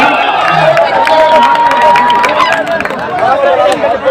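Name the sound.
spectators clapping at a tournament match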